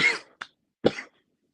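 A few short coughs, a throaty burst, a brief catch, then a fuller double cough, close and clear against silence.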